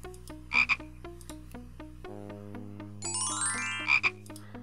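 Frog croaking in the Simon the Sorcerer video game: repeated low croaks pulse steadily over a looping synth tune, with a couple of sharper chirps standing out; no speech.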